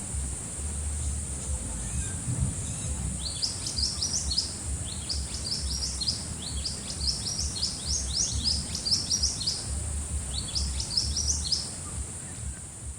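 Orange Minivet calls in the wild, bursts of high thin chirping notes repeated in clusters at a moderate distance over a low steady background hum.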